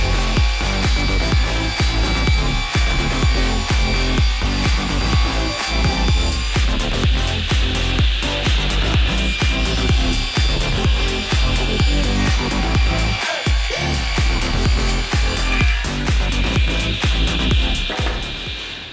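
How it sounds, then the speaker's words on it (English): Table saw ripping a 3/4 inch sheet of plywood, a loud, continuous, close-up blade roar with rhythmic grinding pulses as the wood feeds through, holding steady for nearly twenty seconds. "head over to my table saw and cut my 3/4 inch sheet of plywood to size"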